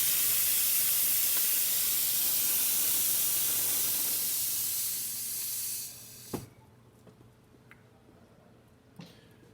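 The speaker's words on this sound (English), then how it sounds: "Test the steam." Strong continuous steam hiss from a La Pavoni espresso machine's steam wand for several seconds that fades and cuts off, followed by quiet with a few faint clicks and knocks.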